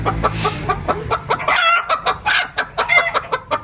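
A hen clucks close by in a quick series of short, rhythmic calls, loud and clear, with no talking over them.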